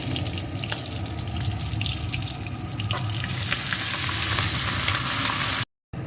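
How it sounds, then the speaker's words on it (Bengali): Chopped red amaranth greens and chilies fry in a pan over high heat, a dense, hissing sizzle that grows slightly louder, broken by a brief silent gap near the end. "এর ভিতরে আমি কেটে রাখা শাকগুলোকে দিয়ে দেব"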